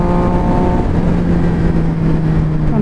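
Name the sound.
motorcycle exhaust revving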